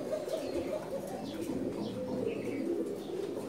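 Pigeons coo steadily in a crowded pigeon loft at a large Dhaka pigeon market, a dense continuous murmur of overlapping low calls with faint chirps above, fairly close and with no talk.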